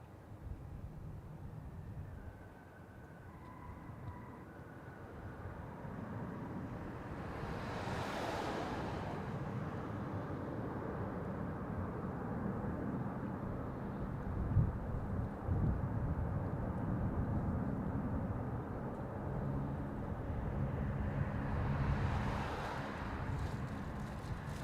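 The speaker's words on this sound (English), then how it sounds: "And coming in on runway 25, Jetstar flight 518 from Melbourne. Bit of a rocky landing." A Jetstar airliner landing on runway 25, heard as a distant broad roar that swells and fades under steady wind noise, with no one talking.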